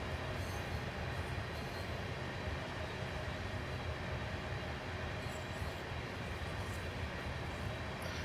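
A Union Pacific SD70ACe freight train rolls past on Sherman Hill in Train Simulator, a steady, faint rumble of wheels and wagons with no voices.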